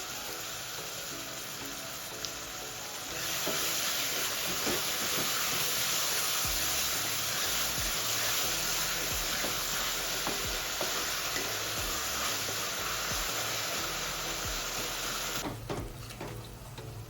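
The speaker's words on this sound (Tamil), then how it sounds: "வெங்காயம் வதங்குறதுக்காக கொஞ்சம் உப்பு சேர்த்துக்கிறேன்" Onions frying in a pan for chicken biryani, a steady close sizzle and hiss that swells louder after about three seconds and runs on with occasional stirring scrapes before easing near the end.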